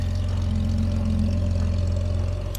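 A Jaguar XJ6 engine idles smoothly and steadily close by, a continuous low rumble with an even hum throughout and no voices.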